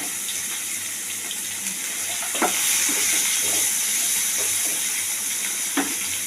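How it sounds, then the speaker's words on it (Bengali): Brinjal and potato frying in a pan, giving a steady bright hiss broken by a few sharp clicks and scrapes of stirring. "আমি বেগুনটা আর আলুটা একটু ভেজে নেবো এখন"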